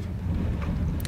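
Millstone grinding in the Minecraft mod Better Than Wolves, a low rumbling churn with a steady rough texture, fairly loud and continuous, with a brief brighter clack near the end and no talking.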